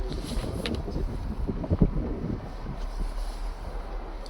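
Gusty wind buffets the microphone high at Bumla Pass in Arunachal Pradesh, a steady low rumble with surging gusts and one brief louder thump.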